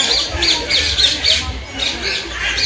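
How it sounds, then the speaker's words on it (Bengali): Parrots at Alipore Zoo in Kolkata let out repeated shrill squawks, several close calls in quick succession over crowd murmur and faint talk. "এই পাখিদের আওয়াজগুলো শুনলে বেশ দারুণ লাগে।"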